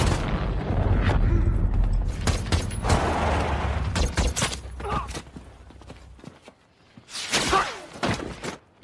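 Gunfire from a battle scene in the war film American Sniper, set at an Al-Qaeda stronghold: a dense run of loud, sharp cracks and bursts over a rumbling low-end bed. The shooting pauses briefly and then resumes with another cluster of shots.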